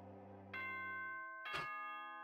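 A multi-tone doorbell-style school broadcast chime from the Danganronpa 2 video game rings out clearly, its sustained tones layering over a soft background hum with no talk.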